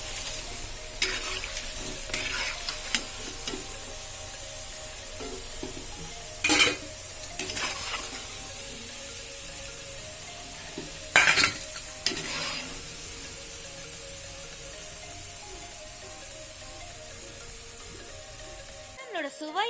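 Vegetable bonda deep-fries in oil in a home kitchen. Steady bubbling sizzle runs under intermittent stirring, with a couple of louder metallic clatters from utensils against the pan before the sound cuts off.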